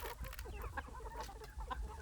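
Backyard chickens, including Black Phu Phan and Wenchang birds, cluck in short, quiet, repeated calls close by.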